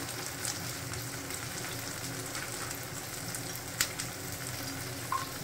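Whole garlic and chopped ginger sizzle in hot oil in a pan while making shahi paneer, a steady close frying hiss with a couple of faint clinks, no talking.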